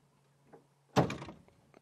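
The back door of a safari vehicle's equipment compartment in Sabi Sand bangs shut once with a sharp, loud thunk and a brief rattle. Faint sounds come before it, and a few small knocks follow.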